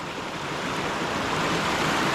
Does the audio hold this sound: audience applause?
no